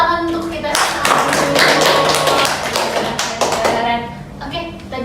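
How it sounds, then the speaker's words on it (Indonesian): A small group of students in a group counseling session claps hands together, sharp taps building into a dense, rapid burst that peaks and then thins out, with children's voices mixed in under the clapping. "tepuk tangan untuk kita semua"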